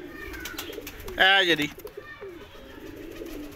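Golden pigeons cooing, a single clear burst of soft throaty calls close by, with a voice briefly talking around it against a steady background hum.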